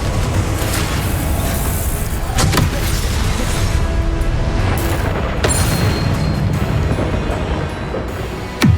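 A Confringo fire spell cast in the Hogwarts Legacy video game: loud, dense booming blasts and rushing whooshes over a constant roaring wash of game effects, with sharp bursts punctuating the mix.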